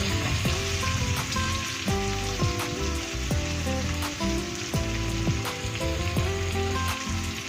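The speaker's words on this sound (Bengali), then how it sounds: "একটা বড় পেঁয়াজ কেটে রেখেছিলাম সেই পেঁয়াজ কুচি ভেজে নেব ভালো করে" Chopped onions frying in a pan make a steady, busy sizzle and crackle, with soft music playing underneath.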